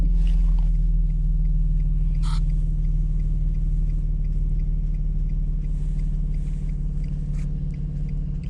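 A 2007 Infiniti G35 Coupe engine idles steadily, a low, even rumble with a faint rhythmic pulse, close and loud, holding constant throughout with a few light clicks above it.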